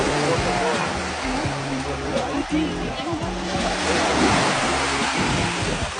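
Surf washes steadily onto a beach on Phi Phi, a constant loud roar of breaking waves with some wind, and a voice talks over it.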